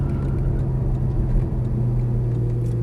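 A Porsche Cayman GTS driven on a racetrack, its engine a steady loud drone with a low hum throughout, rising slightly under throttle.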